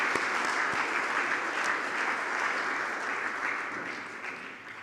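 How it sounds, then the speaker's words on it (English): Audience gathered at the New York Stock Exchange to celebrate the Tamboran Resources IPO claps together in a steady, moderate-volume ovation, a hall full of hands that slowly eases toward the end. "I think everyone should deserve a round of applause"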